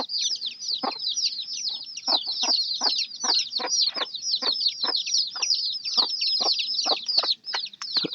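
A mother hen clucks with low, regular pulses while her small chicks peep nonstop in high, busy chirps, all close by and fairly loud, with no talking.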